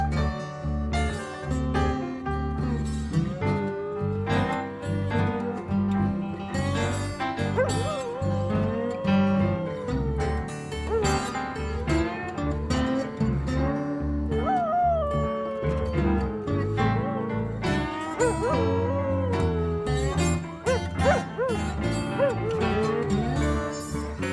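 On an album a dog howls and yips over a bluesy band, with repeated wavering wails and short yelps woven among the guitar and keys throughout.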